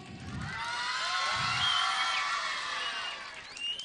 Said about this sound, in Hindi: आप इन तीनों में से तालियां देखते हैं किसके लिए ज्यादा होंगी